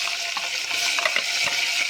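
A paste of onion, tomato and coriander fries in hot oil for a crab masala, a loud, continuous close sizzle with soft stirring scrapes and no voices.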